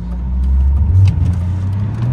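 A car engine rumbles close by and swells as it pulls away for a test drive after suspension servicing, with a steady low drone and a brief rise in revs midway, no voices.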